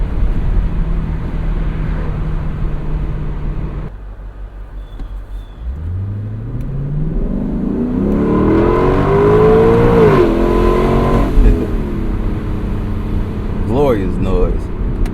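A 2025 Lexus LC500 convertible on an open drive, heard from inside: its engine dips briefly, then climbs in a long rising rev with strong harmonics, drops at a shift, and pulls again over road and wind rumble.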